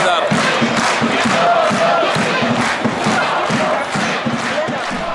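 Arsenal Tula football fans in a stadium after a home defeat to Krasnodar, a large crowd chanting and cheering in rhythmic, loud waves heard from within the stands.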